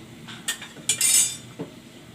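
A spoon knocks and scrapes inside a metal pot while red lentil dal with hog plums, stones still in, is stirred; a few sharp clinks and a brief scraping swish are heard close up, and no one talks.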